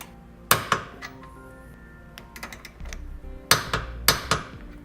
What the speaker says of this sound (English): I'm going to be using a 17mm socket, and I'm going to torque them down to the specified amount in the instructions.